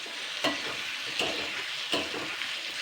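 Ginger, garlic and onion paste frying in a pan while a spoon stirs it: a continuous soft sizzle broken by three evenly spaced scraping strokes, close and moderately quiet.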